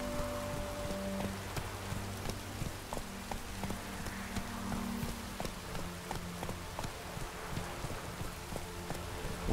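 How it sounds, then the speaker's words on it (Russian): Rain pours in The Witcher 3 video game, a continuous soft hiss of drops on surfaces with faint rhythmic thuds like hooves beneath, staying steady and moderately quiet throughout with no voices. "Как меня достал этот дождь, а?"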